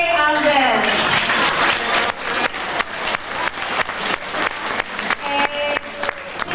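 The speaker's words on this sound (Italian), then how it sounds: "fare un bel applauso per José Albert" Applause for José Albert at a community gathering at Villa Colombo, starting as a dense wash with some voices and thinning into scattered, rhythmic claps toward the end.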